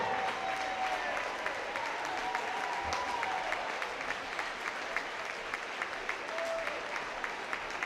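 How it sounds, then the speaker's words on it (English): A crowd applauds a girls' high school basketball team in a gym after the Summertown versus Spring Hill game, with steady, dense clapping throughout and a few faint voices and shoe squeaks underneath. "give this team a round of applause"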